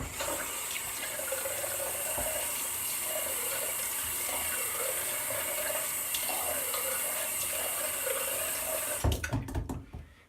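Tap water runs steadily into a sink while a razor is rinsed during a wet shave, a constant hissing stream with faint clinks, ending in a few louder knocks and splashes.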